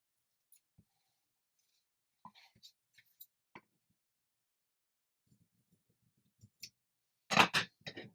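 Scissors snip through the corners of a recycled soft journal cover made with fabric, a quick burst of close crisp cuts near the end after scattered faint handling clicks and taps.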